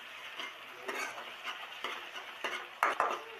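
Soft scraping and clinks of a spoon stirring softened onions and masala in a pan for cauliflower sabzi, irregular strokes with a couple of sharper knocks near the end.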